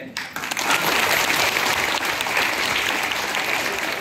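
An audience applauds teachers who look after some 200 girls, with a burst of loud, dense clapping that starts abruptly and holds steady throughout, close and filling the space.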